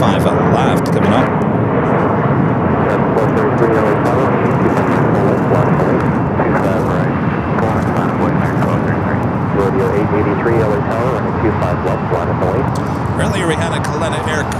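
A jet airliner arriving on runway 25 left at LAX, a steady loud broadband engine roar throughout while a person talks over it.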